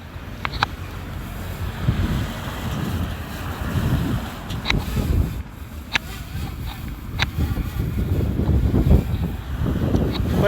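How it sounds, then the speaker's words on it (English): Strong outdoor wind batters the microphone during a small drone flight, making a continuous low rumbling buffet with gusty surges and a few sharp ticks, alone throughout. "Quite windy today"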